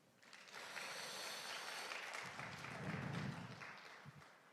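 An audience claps warmly after a professor's lecture at a maritime forum, a dense, sustained round of applause lasting several seconds before tapering off near the end.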